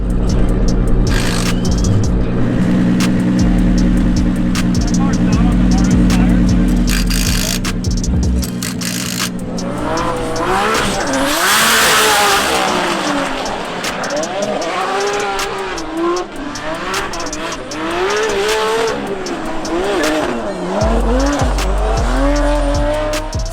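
Formula Drift race cars tandem drifting on a track, engines roaring loud and near while tires squeal in long wavering shrieks, revs rising and falling through the slides.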